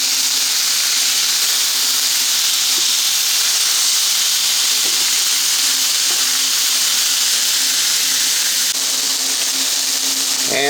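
Pork chops fry on an MSR Whisperlite Universal camp stove, giving a steady, close sizzling hiss mixed with the stove's burner rush, with a few faint clicks and no talk.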